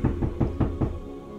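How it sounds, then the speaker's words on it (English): Five quick, evenly spaced knocks land on a door nearby, hard and resonant, then fade into quiet. "somebody knock on my goddamn door like the police"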